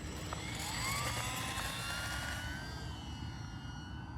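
A small UMX F4F Wildcat RC model plane takes off outdoors, its electric motor whining with rising and falling pitch over steady broadband wind or field noise, fairly close and continuous throughout.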